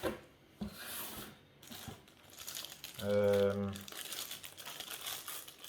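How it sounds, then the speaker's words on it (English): A gaming headset is slid out of a bubble wrap bag, giving close, steady crinkling and rustling of plastic with a louder burst of crumpling midway. "It has the bubble paper or whatever it's called, the bubble bag."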